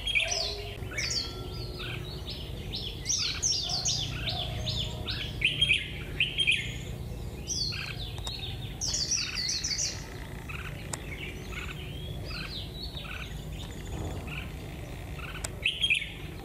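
A white-eye (chim khuyên) songbird sings outdoors on a cold day, pouring out dense runs of high, rapid chirps and twittering phrases across the whole stretch, fairly near and steady against quiet background noise, with no talk.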